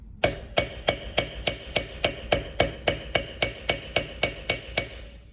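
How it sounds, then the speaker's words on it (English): Sharp metallic hammer blows flattening copper wire on an anvil ring out in a steady, even rhythm, about three strikes per second, close and loud, with no talking. "we're just going to pound it flat with a hammer"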